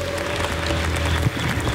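Audience applause welcoming two guests, a short stretch of steady crowd clapping with a faint murmur beneath and a low tone running through.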